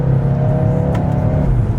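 Turbocharged four-cylinder Mercedes-Benz GLA 250 accelerating onto a road, with a steady engine drone and rising tire and road noise heard from inside the cabin, continuous and fairly loud.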